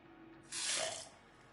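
Faucet in the Satisfactory video game running water in a short burst of broadband splashing hiss that swells and fades within about half a second, over a quiet background.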